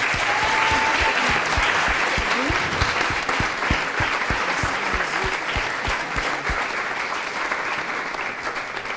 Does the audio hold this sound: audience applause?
yes